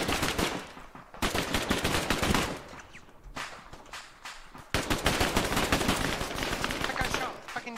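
Heavy gunfire in the military video game Arma, a dense rapid stream of close automatic bursts with short pauses between volleys, loud throughout, with voices faintly under the shots.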